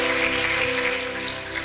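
Congregation applause during a church service, a steady clapping wash heard alongside sustained musical tones from instruments, continuous and moderately loud across the short moment.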